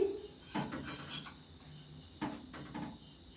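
A knife working through slices of bread for a potato-stuffed snack, giving a few quiet clinks and scrapes against a surface in two short clusters, faint and with no talking.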